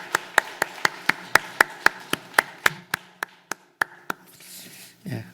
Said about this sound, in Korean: 감사의 박수를 올려드리십시오